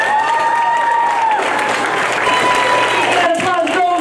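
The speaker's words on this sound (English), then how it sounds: "Got applause going for Martin" Applause and cheering from a school audience at a fifth-grade poetry slam, a steady clapping wash with voices and tonal sounds mixed in, tapering off near the end.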